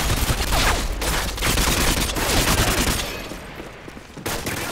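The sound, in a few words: gunfire in video game Modern Warfare 2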